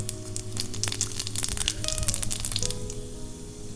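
Panch phoron spices with dried chilli sizzling in hot oil, a steady close crackle with sharp pops and spatters, kitchen tones and faint clatter underneath.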